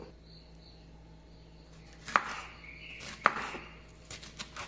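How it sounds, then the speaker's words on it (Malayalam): Knife cutting washed, deseeded capsicum on a board: two sharp distinct chops followed by a few lighter taps, close and fairly quiet, over faint background hum. "ഇത് ഉള്ളി മുറിച്ച പോലെ തന്നെ മുറിക്കേണ്ടത്, തീരെ ചെറുതാക്കണ്ട"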